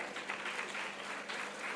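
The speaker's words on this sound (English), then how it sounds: "Please welcome her with a nice round of clapping." Applause from a conference audience welcoming a presenter onto the dais at a nursing and hospital session, a steady, fairly soft wash of clapping that continues through the whole stretch without voices over it.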